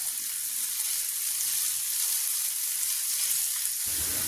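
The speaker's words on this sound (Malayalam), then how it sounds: "നെയ്യ് ചൂടായിട്ട് ചൂടായിട്ടുണ്ട് നമുക്ക് ഇതിലേക്ക് ഞാൻ കുറച്ച് ഒരു പത്ത് ചെറിയ ഉള്ളി ഇതേപോലെ പൊടിയായിട്ട് അരിഞ്ഞത് ചേർത്ത് കൊടുക്കുന്നുണ്ട്" Finely chopped small shallots fry in hot ghee with a steady, even sizzle, close and fairly loud, that holds throughout before briefly dropping off near the end.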